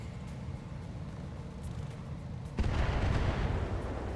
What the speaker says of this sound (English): Looks like the Valkyrie put out another burst of LRMs, didn't accomplish anything